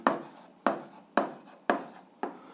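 A pen writes an answer on paper in five short, evenly spaced scratchy strokes, close and distinct against silence.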